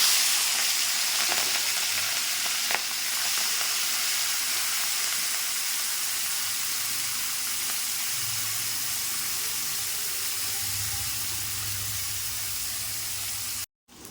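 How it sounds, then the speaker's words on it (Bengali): Shrimp rubbed with salt and turmeric sizzle steadily in hot oil, a loud continuous frying hiss with faint stirring and no talk, cutting off abruptly near the end. "তেল গরম হয়ে গেছে, এবার আমি মাছগুলো দিয়ে দেবো।"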